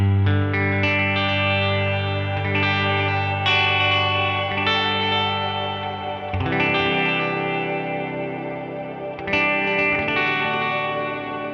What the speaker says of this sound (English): you still hear that very clean delay with this kind of new reverb sound that we made under it